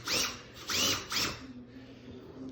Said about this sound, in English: We're gonna use a power tool on food.